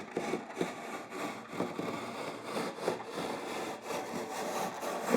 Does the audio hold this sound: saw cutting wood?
yes